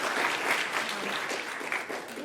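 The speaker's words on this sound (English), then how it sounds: "I just want to give all of these students a round of applause for their work on that" Applause at a middle school choral concert for the student singers, a soft, steady, distant wash of clapping with a faint murmur of voices.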